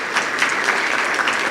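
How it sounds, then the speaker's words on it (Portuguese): Audience applause at a formal opening session of a hybrid-format event, steady dense clapping from a crowd held at an even level for a short stretch with no voices on top. "Uma salva de palmas, senhoras e senhores"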